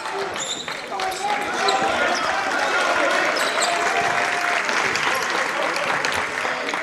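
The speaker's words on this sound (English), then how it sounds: "Crusader bench cheering on their guys, playing some good defense" Bench players cheering during a high school basketball game, with continuous crowd noise, shouts and squeaking shoes on the court, loud and close, under a commentator's voice.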